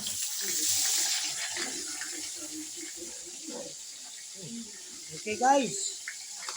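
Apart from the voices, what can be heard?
water running while washing rice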